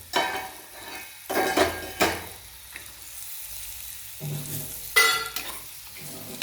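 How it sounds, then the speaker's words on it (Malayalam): Squid curry stirred in a pan on the stove just after the squid goes in: a spoon scrapes and knocks in uneven strokes over a steady sizzle of frying, close and fairly loud, with no talk. "നമ്മളെല്ലാ കണവയും ഇട്ടു. ഇനി നമുക്ക് ഇളക്കാം."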